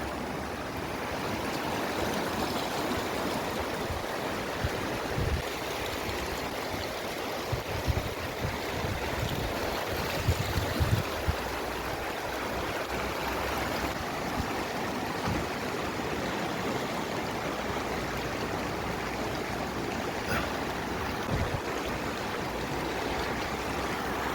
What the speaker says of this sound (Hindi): ध्यान जरा पानी कितना नदी का बढ़ रहा है।